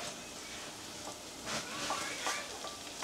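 Food frying in a pan until light brown, a steady soft sizzle with a few brief stirring bursts, close by and fairly faint.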